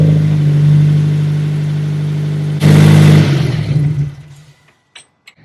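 A car engine runs loudly, then roars as it revs hard before dropping away to near silence with a few faint clicks.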